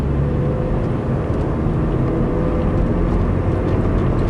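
A Vauxhall Corsa SXi pulls steadily in third gear, its engine drone and road noise rumbling loud and close throughout with no voices.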